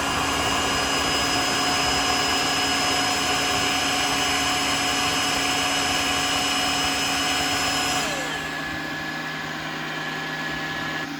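A Tineco Floor One S3 wet-dry vacuum runs steadily while cleaning a floor, a loud continuous motor whine with a high-pitched tonal hum; near the end its pitch drops and the sound softens as the suction winds down.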